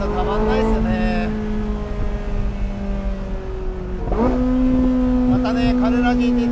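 Porsche 918 Spyder V8 engine accelerating hard through the gears, rising howling tones broken by quick shift dips, loud and close, with a voice talking over parts of it.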